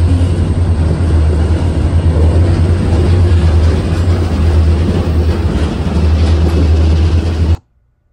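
Passenger train on the run from Anchorage to Seward gives a loud, continuous low rumble and rolling roar close by, holding steady for about seven seconds before cutting off abruptly.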